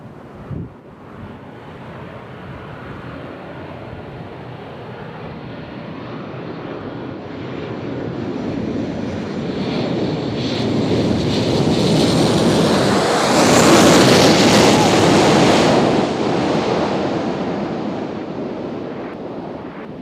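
An airliner arriving from Panama City approaches Nashville International Airport, its engine roar swelling slowly from a distant rumble to a loud, broad rushing peak before easing off, with wind buffeting the microphone outdoors.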